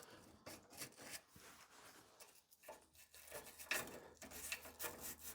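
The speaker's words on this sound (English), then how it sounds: "I'm just gonna clean up the teeth with a little wire brush" A small wire brush scrubs the teeth of a saw blade from a Rockwell/Beaver table saw, clearing sawdust and old grime. The scratchy rubbing comes in short, uneven strokes at close range, fairly quiet, with no talking.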